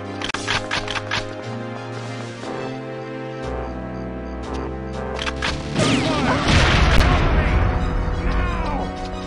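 Rocket launcher blasts in the video game Perfect Dark, played in the 1964 mod, with booming explosions building into a loud, dense burst of crashing debris amid layered game effects and music.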